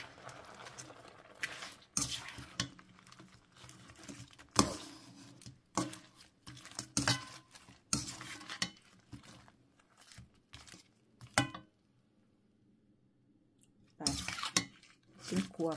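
Shrimp being stir-fried in a pan, with repeated sharp clinks and scrapes of a utensil against the pan in irregular bursts, pauses between them, and soft voices in the background.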